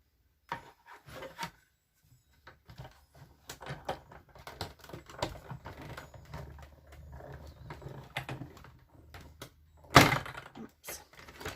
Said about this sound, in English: So I'll just bring in my embossing machine, just put